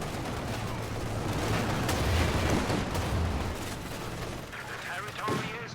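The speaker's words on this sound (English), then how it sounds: "The LMGs on the Grenadiers start just shredding at the Rifleman." Light machine guns on Grenadier squads fire on Riflemen in a WWII real-time strategy game, a dense continuous crackle of gunfire and battle noise sustained throughout at steady loudness.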